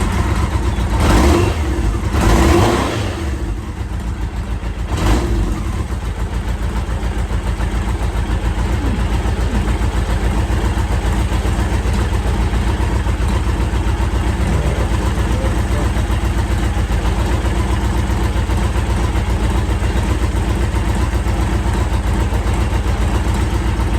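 A 1983 Yamaha XJ900 Seca four-cylinder motorcycle, freshly restored, idles low and steady at close range with a continuous even rumble, after a brief rise in revs at the start.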